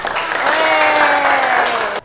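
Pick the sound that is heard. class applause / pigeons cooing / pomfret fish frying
class applause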